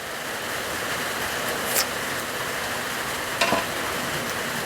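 A steady bubbling, simmering hiss of a large pot of chicken biryani boiling fills the whole stretch, with a couple of brief clinks of a utensil against the pot.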